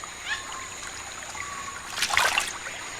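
A jaguar wading into a rainforest river to fish makes a soft trickle of water, then a brief burst of splashing near the end, fairly faint and close.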